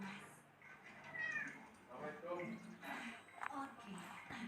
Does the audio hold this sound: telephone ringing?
no